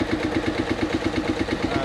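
A 1945 Marshall Model M engine drives a saw table through a flywheel and crossed belts, giving a steady, loud, rhythmic chugging throb close by.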